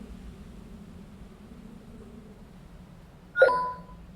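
A single short chime-like notification tone in the NieR Re[in]carnation video game, sounding briefly and clearly near the end after a stretch of quiet low background hum.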